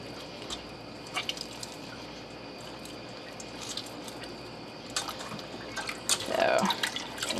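Milky water is poured off a bowl of homemade butter, with soft drips and splashes, then a louder gush of liquid near the end, all close by.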